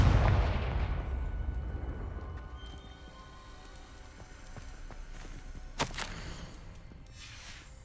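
A Confringo blasting spell from the video game Hogwarts Legacy bursts at the start as a loud low boom, then decays into a rumbling tail with a sharper crack near the end, no talk over it.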